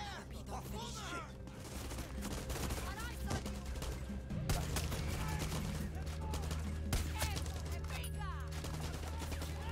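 Rapid gunfire bursts from a Far Cry 6 firefight crackle steadily over a constant low game soundscape, with a voice talking intermittently through the shooting.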